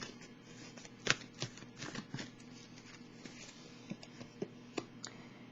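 Psychic tarot cards being shuffled by hand, a soft, close papery riffle with a few sharper snaps and light taps spread through a quiet room.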